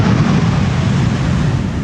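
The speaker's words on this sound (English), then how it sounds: "reversers being applied there. Briefly." Thrust reversers roar on an airliner just after a crosswind landing on the Polderbaan runway at Amsterdam Schiphol, a loud, steady broadband rumble with heavy low-end wind buffeting throughout.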